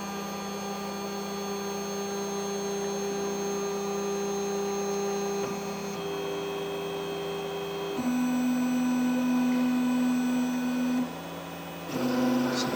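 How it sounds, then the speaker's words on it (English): A TEVO Black Widow 3D printer homes its axes, its stepper motors giving out steady tonal whines that change pitch in distinct steps as each movement starts and stops, with no talk. "So we'll go over to the printer and see how our first print goes. The printer homes."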